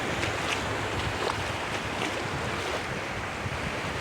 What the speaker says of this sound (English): You can't even walk in the ocean waves.